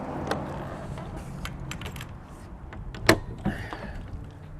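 Keys jangling at the lockable man door of a DuraBull multi-sport snowmobile trailer, soft metallic clinks with a louder sharp latch clack and a faint scrape nearby.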